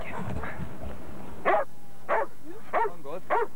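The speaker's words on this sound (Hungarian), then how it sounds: "Megtámadni nem tudja, ezért ugatja." A police dog in training barks at a hidden, motionless person, giving four sharp, loud barks spaced about a second apart after some softer whining and shuffling at the start.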